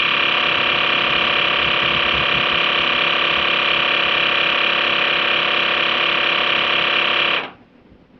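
A portable air compressor built into a car jump starter inflates a car tire with a loud, steady, close-up mechanical drone that runs unchanged for about seven seconds, then cuts off abruptly.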